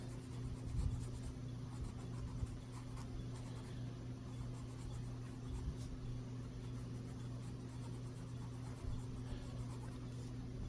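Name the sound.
colored pencil burnishing on paper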